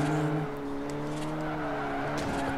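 Race car engine in Forza Horizon, a sustained steady engine drone with shifting pitch and a brief tire squeal, loud and close with no speech over it.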